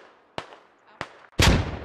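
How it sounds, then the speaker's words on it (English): A frag grenade explodes in a video game battle, preceded by two sharp separate cracks, then a louder, broad burst that rings on briefly, close by. "here comes a frag"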